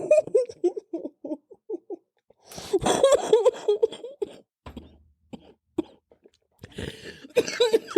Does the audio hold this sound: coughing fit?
yes